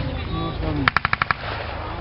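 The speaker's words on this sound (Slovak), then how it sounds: "Jednotlivými ránami sa zameria cieľ a potom sa spustí salva." Mortar in a battle reenactment firing a quick series of six sharp, evenly spaced rounds at medium distance, over a steady outdoor rumble.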